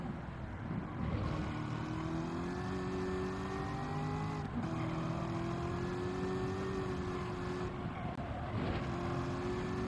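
Race car engine in Gran Turismo 7 during a master licence test on a track, a loud continuous drone that rises in pitch under acceleration, dropping briefly at gear shifts and braking.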